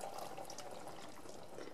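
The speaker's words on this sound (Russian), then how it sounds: "Кипяток добавлю чуть-чуть." Boiling water trickles from a mug into a pot of stewing meat for a roast, a soft steady pour heard close and quiet throughout, with no one speaking.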